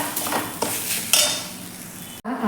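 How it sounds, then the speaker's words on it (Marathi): Grated fresh coconut being sautéed in ghee over low heat, with soft scraping stirs and a gentle sizzle, a few louder scrapes, and a brief clatter near the end. "बारीक गॅसवरतीच आपल्याला एक मिनिटभर फक्त आपल्याला हे ओलं खोबरं तुपावरती असं परतून घ्यायचं आहे"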